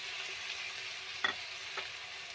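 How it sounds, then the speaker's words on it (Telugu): Tomatoes dropped into vegetables frying in oil in a pan give a steady close sizzle, with two brief soft knocks of stirring near the middle and no talk. "ఇప్పుడు టమాటా వేస్తున్నాను"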